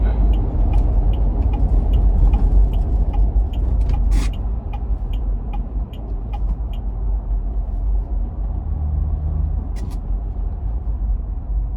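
A 2024 Ineos Grenadier TrialMaster accelerating onto an interstate, its engine and road rumble loud and steady from inside the cabin, with a brief sharp hiss partway through.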